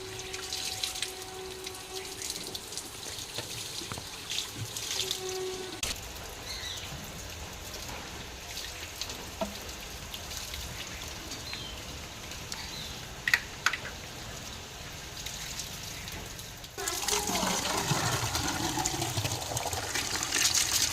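Water runs from a tap into drinking water containers at home, a steady close rush with shifting tone as the vessels fill, intermittent clinks, and a louder splashing stretch near the end.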